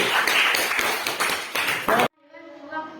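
A classroom group claps together for about two seconds, dense and lively, then it cuts off abruptly into a faint tonal ring.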